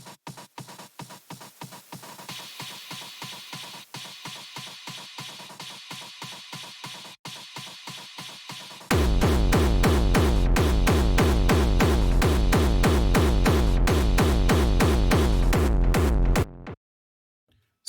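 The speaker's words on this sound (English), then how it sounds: "I was scrolling the loops and I found this hi-hat loop" Industrial techno hi-hat loops tick in a fast, steady metallic pattern, and a denser, louder layer joins halfway through before the loop stops.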